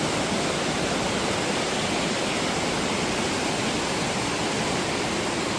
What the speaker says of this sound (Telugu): అంటే ఈ నది జలపాతం